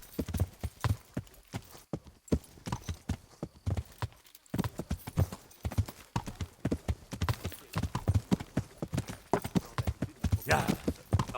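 Horse hooves clip-clop at a quick, uneven trot on hard ground in the video game Kingdom Come: Deliverance, close and rhythmic, with a brief pause before the steps pick up again.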